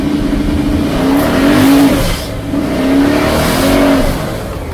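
A car revs hard while its wheels spin on the street, giving a loud, close engine that rises and falls through repeated surges with a whining pitch sweep in each burst.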